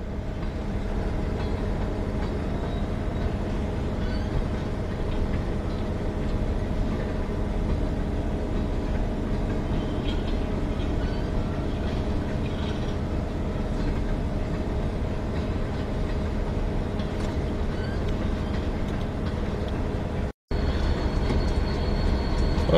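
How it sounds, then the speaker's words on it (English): Coal train cars pushed by locomotives during a railfan outing, a loud continuous rumble and rolling clatter of wheels on rails, close by and unbroken throughout. "here come the locomotives that are pushing these coal units"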